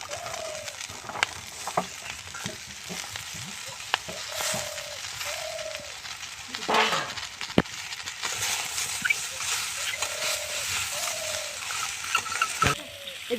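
Brinjal, potato and cauliflower frying in hot oil in a wok, a steady close sizzle running throughout, with occasional stirring clinks and bird coos in the background.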